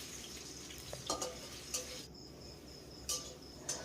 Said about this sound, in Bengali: এখন একবার খুব ভালো করে এইভাবে মিশিয়ে নিতে হবে।